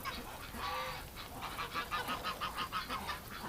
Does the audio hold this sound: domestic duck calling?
yes